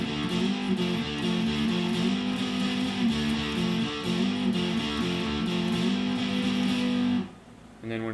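Electric guitar playing the repeating riff of a song, a steady low looping figure with bright upper harmonics, played solo and close before ending abruptly.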